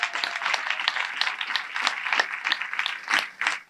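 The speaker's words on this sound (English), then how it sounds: "give yourself a big round of applause for being here" A seminar audience gives a round of applause at a business talk about selling on Amazon FBA, producing steady, close clapping from a modest crowd that continues without pause and swells briefly near the end.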